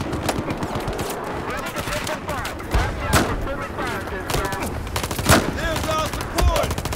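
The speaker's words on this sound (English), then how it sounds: "We have hostile fire pinning us down." Battlefield 4 campaign firefight with close, loud automatic weapon fire in rapid rattling bursts, broken by heavier booming shots and blasts, with voices faintly mixed underneath.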